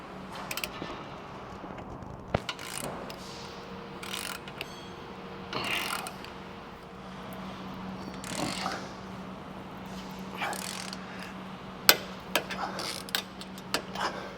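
Ratchet tightening stabilizer clamps on a Ford Super Duty truck during a dual stabilizer install, with intermittent clicking ratchet strokes and metallic clanks over a low steady hum, close by.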